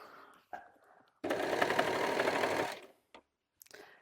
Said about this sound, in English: So I just run a line of serging all along the bottom of the top